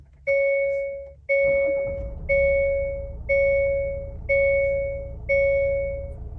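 A Hyundai Tucson starting up: six evenly spaced two-tone electronic chimes ring out close by, and a low engine rumble settles in underneath after the first couple of chimes and carries on steadily.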